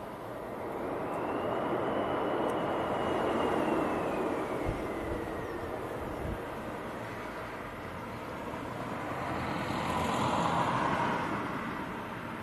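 A Jet2 airliner from Barcelona at Leeds Bradford Airport in strong gusting wind gives a broad, distant roar that swells and eases, half buried in heavy wind noise.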